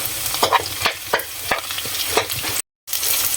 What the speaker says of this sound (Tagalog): Pag mainit na po ang kawali, igisa na natin ang bawang. Tapos luya, Tapos sibuyas.